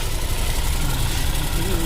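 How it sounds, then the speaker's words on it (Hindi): A motorbike engine idles right after being started, a loud, steady, low rumble with constant vibration. Someone speaks over it. "देखिए फ्रेंड्स, मैंने बाइक स्टार्ट कर रखी है"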